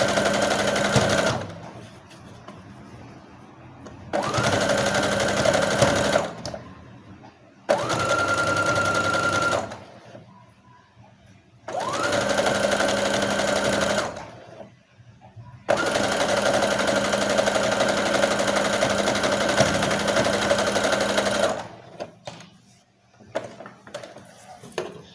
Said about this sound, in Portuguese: Passei uma costura na renda, que é a bainha do vestido.